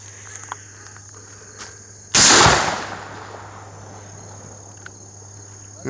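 A Mossberg 835 12-gauge turkey shotgun loaded with bird shot fires one loud, sharp blast at a fire extinguisher, decaying over a second amid steady crickets and a couple of faint clicks.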